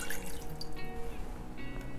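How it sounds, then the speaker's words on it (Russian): Water pours into a saucepan in a kitchen, with a light, steady trickling and splashing that stays close and moderately loud throughout, with no speech. "наливаем в нее воду"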